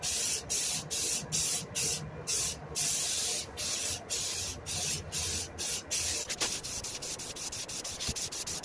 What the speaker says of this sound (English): using some Rust-Oleum self-etching primer. So just